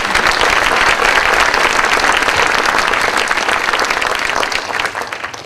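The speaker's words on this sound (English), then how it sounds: "So I'd like to have a round of applause for that." Audience at a county community banquet breaks into loud, continuous applause, dense clapping that stays strong throughout and eases just slightly at the close.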